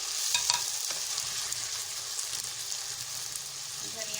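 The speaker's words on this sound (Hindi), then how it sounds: "देखिए चिकन भून गई है ये लहसुन अदरक के साथ।" Chicken fries with garlic and ginger in a pan as dry spices go in, a dense, continuous hiss of sizzling oil with stirring scrapes near the start.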